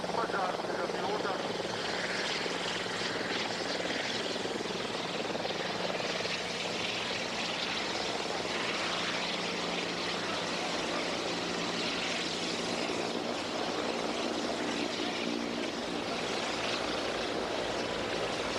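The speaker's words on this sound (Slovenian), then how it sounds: "odlična predstava tega težkega helikopterja, ki mimogrede lahko leti s 330 km/h in se vzpenja s 15 metri v sekundo." A heavy helicopter flies at an airshow capable of 330 km/h, its engine and rotor roar filling the air steadily and loudly throughout, with a commentator speaking over it.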